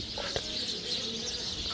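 Birds perched in trees in the small hours before dawn give a brief, soft cooing call over a steady, faint night background, with a light rustle or flutter and no speech.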